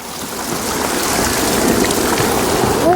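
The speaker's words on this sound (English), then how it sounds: "Absolutely everywhere you go, beautiful little waterfalls all running down." Small waterfalls run down a hillside in the Scottish Highlands as a loud, continuous rush of water, close by, with no talking.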